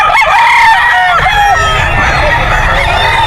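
A white Kelso rooster at the Bocaue pet market crows loudly and up close, with other fowl clucking and crowing around it amid market bustle.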